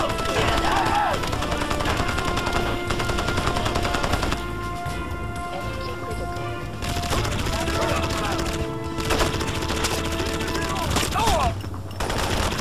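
Rapid automatic gunfire in the video game Crysis, loud bursts of machine-gun fire that run almost without pause, with brief gaps, under game music and a voice.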